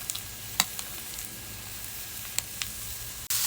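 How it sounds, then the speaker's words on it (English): Stuffed pork chops sizzle steadily over an applewood fire, a faint continuous frying hiss with a few sharp crackles and pops scattered through it and a brief louder burst at the end. "Listen to the sizzle."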